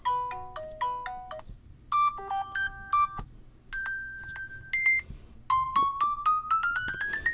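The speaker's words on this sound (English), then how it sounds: "that's your different ringtones" A sequence of different Samsung Galaxy Watch 3 ringtone melodies plays one after another, bright beeping and chiming tones in quick patterns with short gaps, close and clear.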